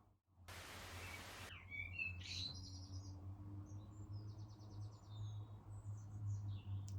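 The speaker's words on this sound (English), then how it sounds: "So pretty. I think it's a blackbird." A blackbird sings outdoors near a home, brief fluting phrases heard faintly at a distance over a steady low hum and a burst of noise at the start.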